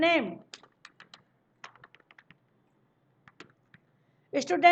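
Scattered, soft keystroke clicks on a computer keyboard as table data is typed, sparse and irregular, framed by someone speaking at the start and end.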